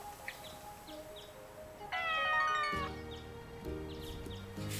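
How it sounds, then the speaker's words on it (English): A cat meows several times in the farming video game Story of Seasons: Pioneers of Olive Town, short clear meows over a quiet ambient background with soft game chimes, no talking. "There's a kitty cat running around out back"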